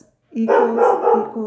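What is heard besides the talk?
dogs barking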